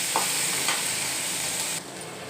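Garlic, onion and dried red chilies sizzle and sauté in a pan for a chutney, a steady close frying hiss with a couple of faint stirring scrapes and no talking.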